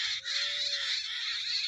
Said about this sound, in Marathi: रानात आल्यानंतर पक्ष्यांचा आवाज.